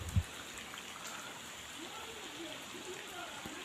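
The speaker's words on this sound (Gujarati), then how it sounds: "ખૂબ બધો વરસાદ આવી ગયો" Rain pours down as a steady, even hiss, heard from a distance and fairly quiet, with a soft thump at the start and faint voices underneath.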